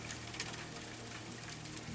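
Steady rain falling outside, a soft continuous hiss with scattered drops and faint patters, even in level and alone.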